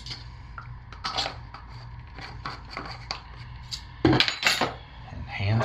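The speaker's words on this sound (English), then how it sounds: "hand stir these in" Mica powder being stirred by hand into a soap mixture gives light scraping clinks of a utensil against a container, irregular and close, with a few louder knocks.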